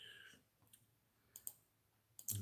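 A computer mouse clicks faintly and close, a few sharp isolated clicks spaced irregularly, ending in a quick double click, over a quiet low hum.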